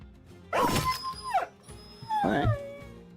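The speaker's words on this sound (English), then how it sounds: "Some starting war dogs." War dogs in the video game Battle Brothers give two separate sharp bark-yelps, each with a rising then falling whine, spaced about a second and a half apart against a quiet game background.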